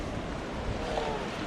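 Water flows steadily down a gold panning channel at the Panguna mine on Bougainville, a broad, constant rushing wash filling the short moment without breaks.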